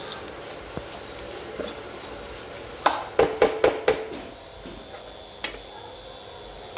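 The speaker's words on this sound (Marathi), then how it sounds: "परतून त्याला तेल सुटेपर्यंत छान असं परतून घ्यायचं." Masala is sautéed in oil in a pan over a soft, steady sizzle, with a quick cluster of clattering spoon-on-pan scrapes and knocks partway through.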